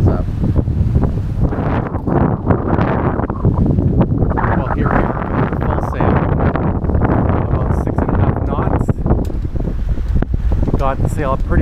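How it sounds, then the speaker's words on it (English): Wind of about 10 to 11 knots rushes over a sailboat near Anegada in the British Virgin Islands, a loud continuous roar and buffeting against the microphone with faint water sounds beneath. "we will also get under sail here because we have wind, not about 10, 11 knots so far"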